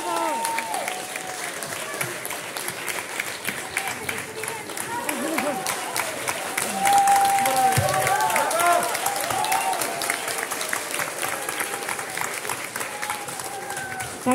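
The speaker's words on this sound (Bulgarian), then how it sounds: "аплодисменти!" Theatre audience applauds steadily for the cast and director called onto the stage, dense clapping filling the room from start to finish with a voice and some cheering rising over it midway.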